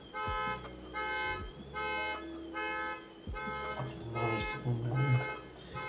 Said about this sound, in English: Car alarms are so loud